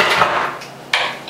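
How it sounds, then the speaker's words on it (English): Metal cookie sheets being swapped in a home kitchen while baking melting moment cookies, a close, loud clatter and scrape of thin pans with a second sharp clank near the end. "I'm changing cookie sheets because I realize that there's too many cookies to go on that pan."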